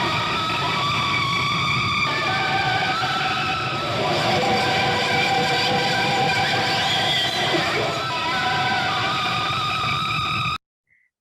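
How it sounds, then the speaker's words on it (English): An electric guitar runs through every effects pedal at once, producing a dense, noisy, saturated wash that swells and churns for about ten seconds before cutting off abruptly. "you're not going to use all of your pedals at once, obviously, right? Because it would sound like this."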